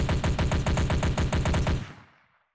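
Rapid automatic gunfire from a weapon in a Unity 3D first-person shooter game, a steady rhythmic burst of evenly spaced shots lasting about two seconds before cutting off and fading, loud and close with no talk.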